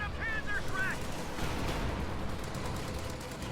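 Grenadier rifle and small-arms fire in the Company of Heroes 2 battle game rattles on as a continuous, moderately loud barrage, with a brief voice near the start.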